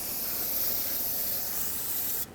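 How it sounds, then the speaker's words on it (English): Brake parts cleaner sprays in a continuous close, loud hiss onto the rear brake area of a 2007–2014 Chevrolet Silverado 2500 HD truck, cutting off abruptly at the end. "Use brake parts cleaner and degrease the entire area"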